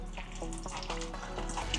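Tap water runs into a sink while raw cut chicken pieces are rinsed for Trinidadian stew chicken, a quiet steady splashing stream with a few soft knocks and drips, no talking.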